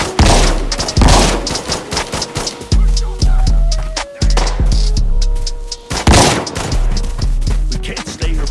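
Heavy video game gunfire, a loud, dense fusillade of rapid shots and booms with a low throbbing hum beneath, bursts thinning briefly before another loud volley near the end.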